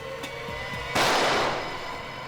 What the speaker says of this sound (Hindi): किसी ने मुझ पर गोली चलाई